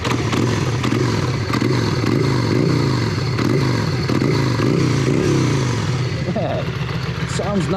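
A Yamaha Virago 535 cruiser motorcycle's V-twin running close and loud, a steady throbbing rumble with a rhythmic pulsing beat, briefly rising near the end.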